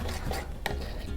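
A fork stirs coffee into gluten-free wrap batter in a bowl, giving soft, continuous scraping and swishing with one sharper clink against the side, close by and without voices.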